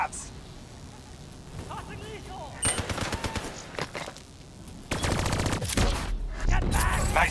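Video game gunfire shooting down vats, bursts of rapid shots and explosive impacts in the second half, loud and close, with voices talking over the action.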